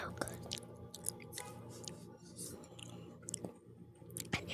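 Crunchy pizza being chewed in a close mukbang setting, with soft crackling bites and moist mouth sounds repeating unevenly, mixed with quiet breathy vocal sounds.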